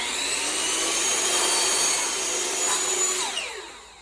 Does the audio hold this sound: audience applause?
no